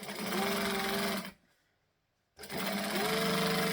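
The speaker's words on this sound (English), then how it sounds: "So I'm just going to line it up, stitch and back stitch." A sewing machine stitching and back stitching fabric, a fast steady mechanical whir close by that stops for about a second of silence and then starts up again.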